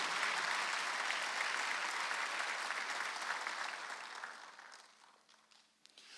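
Congregational clapping fills a church during a Wednesday service at 예수중심교회, dense and steady at first, then thinning and fading to a few scattered claps and faint shuffling near the end.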